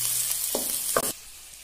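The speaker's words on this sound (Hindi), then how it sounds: "अब इसमें टमाटर ऐड करेंगे और इसमें लगातार चम्मच मिलाते रहे, ताकि थोड़ा अच्छे से मिक्स हो जाए।" Tomato stirred with a spoon in a hot frying pan for pea chutney gives a steady sizzle, with two short scraping bursts of the spoon against the pan close by.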